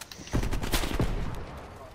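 Gunfire in the video game Call of Duty Cold War, a short burst of a few quick shots, fairly faint and close together.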